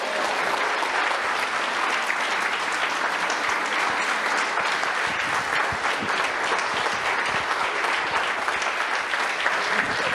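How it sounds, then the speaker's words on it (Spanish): A church congregation applauds in praise, dense steady clapping from many hands filling the room evenly and loudly throughout, with no break or voice over it. "Un aplauso a el Señor Yahshua."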